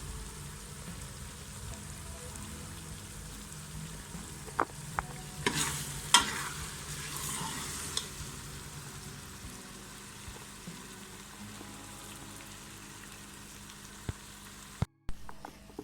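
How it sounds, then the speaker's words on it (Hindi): Pumpkin and chana dal stir-fried in a pan, a continuous soft sizzle with a few spoon scrapes and taps against the pan, close and steady with no talk. "अब इसकी 2 से 3 मिनट के लिए मज़ीद बुनाई करेंगे।"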